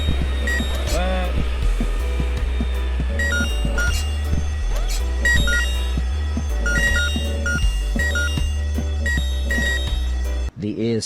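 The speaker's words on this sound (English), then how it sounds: "The ear-splitting sound was the fire alarm." A fire alarm rings continuously in the video game Horace, a loud, shrill metallic bell running over steady game music and effects for several seconds.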